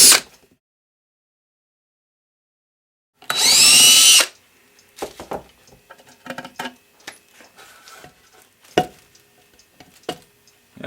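A power drill runs in one loud, close whirring burst of about a second while backing screws out of glued mantel clock parts, followed by scattered clicks and small handling knocks.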